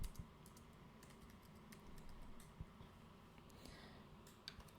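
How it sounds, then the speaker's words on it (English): Fingers tap out text on a computer keyboard in a quick run of soft, close key clicks, very faint over a quiet room hum with no one speaking. "So I'm going to type out back to school."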